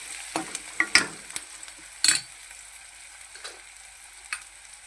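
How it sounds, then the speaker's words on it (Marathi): Onion and red chillies sautéing in a pan, a soft sizzle with a few quick clinks and scraping stirs clustered near the start, then a quieter stretch with one more stir near the end. "त्यामध्ये घालूया कांदा, जरा परतूया। 4 लाल मिरच्या टाकूया।"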